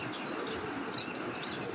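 A strong-winged racing pigeon coos and flutters amid continuous dense rustling and chirps, a busy, fairly loud loft ambience with no clear gaps.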